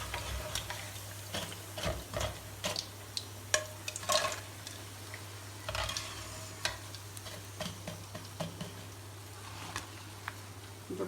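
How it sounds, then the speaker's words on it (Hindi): Pakoras in gram-flour batter fry in hot oil with a soft sizzle, broken by frequent sharp clicks and taps of a utensil in the pan, under a steady low hum. "पकौड़े हमारे फ्राई हो गए हैं।"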